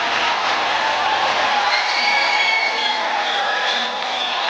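Steady, loud wash of applause and cheering from a studio audience on a Hindi comedy talk show, greeting actor Saif Ali Khan's entrance, sustained evenly throughout with no break.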